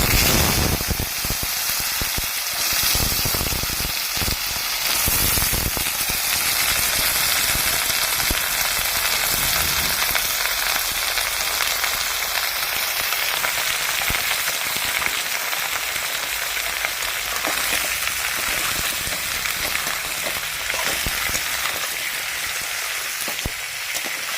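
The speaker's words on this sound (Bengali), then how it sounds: "শুকনো লঙ্কা তেজপাতা পাঁচফোড়ন সব মোড়া দিব তারপরে সবজিটা দিয়ে" Vegetables fry in hot oil with dried red chilli, bay leaf and panch phoron, a loud, dense, continuous sizzle that crackles steadily throughout, with occasional stirring scrapes early on.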